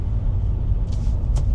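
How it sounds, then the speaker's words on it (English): A Volvo C30 hatchback rolls along in traffic, a steady low road rumble and engine hum filling the cabin, with a couple of brief hissing sounds late on. "it's driving fine. We're just in traffic"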